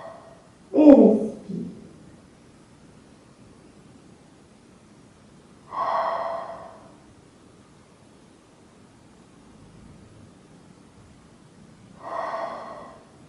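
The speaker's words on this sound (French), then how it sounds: "Et respire." Slow, audible breaths from a person during a Pilates class: a sharp inhale near the start, then two longer exhalations several seconds apart, close and moderately soft in a quiet room.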